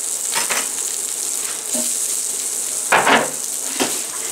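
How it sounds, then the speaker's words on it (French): Shallots frying in a hot pan with butter, a steady bright sizzle with a few louder crackling bursts and light stirring scrapes, close and continuous without talk. "Donc on va mettre nos échalotes dessus. Une autre de plus. Voilà, on fait juste colorer."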